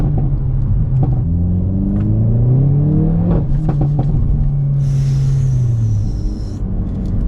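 Hyundai i30N hatchback engine revving hard, loud and close, its pitch climbing and falling through a sustained rising roar with a deep rumble underneath, then easing off near the end.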